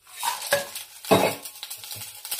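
Tempering seeds frying in about two spoons of oil, close up: a light sizzle broken by several scraping stirs and faint clinks of a utensil against the pan.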